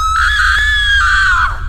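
A loud, sustained high-pitched scream from a cartoon witch attacking behind a house in a graveyard, holding steady for well over a second before trailing off, with no talk.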